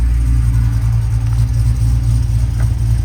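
A car drivetrain running in first gear through a newly installed Tremec TKX manual transmission gives a steady, loud, low engine rumble that holds evenly throughout, close by and with no talk.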